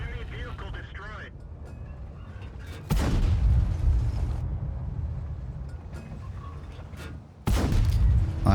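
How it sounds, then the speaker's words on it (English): Tank cannon fire in World of Tanks, a ShPTK-TVP 100 shooting HE rounds: two loud booming shots a few seconds apart, each followed by a rumbling decay, with a voice talking between them. "I am spamming just some HE rounds just to try and shoot the SU if he was pushing that way."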